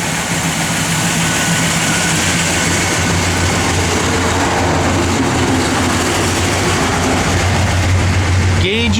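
A 1967 Chevrolet Chevelle engine with a solid lifter camshaft runs loud and steady at close range, a deep continuous rumble with no change in pace throughout.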